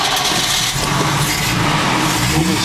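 A car engine with a three-on-the-tree column shift, started cold, turns over and catches, settling into a loud, steady rumble close by.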